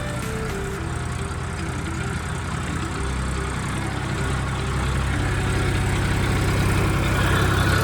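A tractor stuck in a ploughed field with two tyres spun, its engine running with a steady low drone that rises slightly as it labours, heard close and alone.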